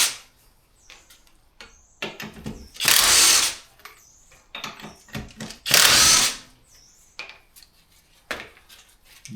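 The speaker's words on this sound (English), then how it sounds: "So we've got a Kilda impact wrench here." Kilda impact wrench spinning nuts off during an MG Midget engine bay strip-down, two loud bursts of hammering rattle, each lasting under a second, with quieter clinks and tool handling between them.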